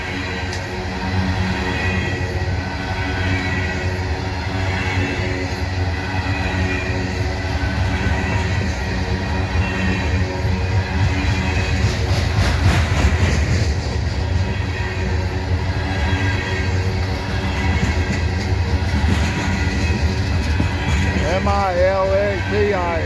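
A long freight train rolls steadily past at close range in Abbeville, with a continuous loud rumble of cars, a brief wheel squeal near the end and someone talking over it.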